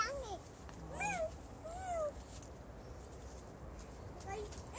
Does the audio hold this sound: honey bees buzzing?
no